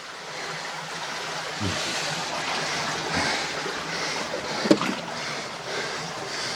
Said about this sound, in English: The water's just cruising through there now.